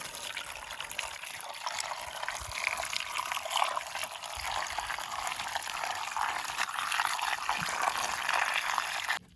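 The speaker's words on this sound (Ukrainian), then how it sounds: "А тепер я роблю шокотерапію. Заливаю кип'яточком." Boiling water poured from a kettle over a bowl of scored tomatoes being blanched before pickling: a steady, hissing splash that runs without a break for about nine seconds, with no talking.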